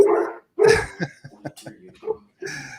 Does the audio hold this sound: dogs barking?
yes